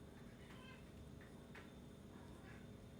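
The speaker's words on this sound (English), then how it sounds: "You guys should meet my cat." Franz Josef the cat gives a few faint meows, soft and slightly distant, over a dull background hum.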